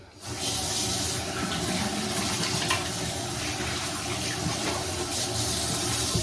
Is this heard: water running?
yes